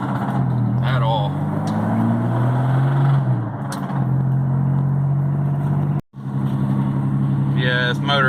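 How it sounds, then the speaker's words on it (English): A rough-running Chevy small-block 305 V8 idles unevenly with a steady low rumble, close and loud throughout, cutting out briefly for a moment near the end before resuming; a person talks over it. "Yeah, this motor definitely doesn't sound good at all."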